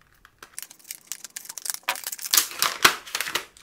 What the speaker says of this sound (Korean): 잘못하면 다치겠어요. 가위로 하겠습니다.